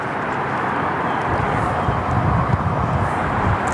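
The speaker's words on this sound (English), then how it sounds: "Jetstar 3, next one to roll here on runway 34 left, heading off to Honolulu this afternoon" A Jetstar airliner takes off from runway 34 left at Sydney Airport, a steady broad engine roar that swells slightly midway and holds moderately loud at a distance.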